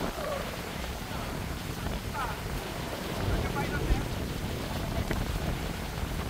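Strong wind buffets a boat out on the water during a rainstorm, a steady broadband roar with gusts swelling near the middle, along with wave and spray noise.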